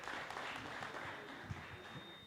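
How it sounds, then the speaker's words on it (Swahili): Applause for a group at a church self-help group annual general meeting, a faint, steady patter of clapping from a crowd heard at a distance in a large room. "Na tumpigie makofi, tuwapigie makofi."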